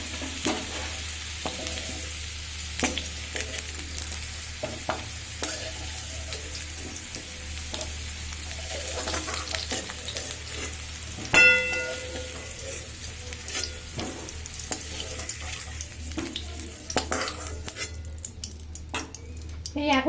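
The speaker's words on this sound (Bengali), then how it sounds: "দেখুন, সবজিটা ভাজা ভাজা হয়ে এসছে।" Vegetables for a dal shukto fry in oil in a pan, a steady close sizzle with stirring clicks and scrapes, a sharper clatter midway and the frying thinning near the end.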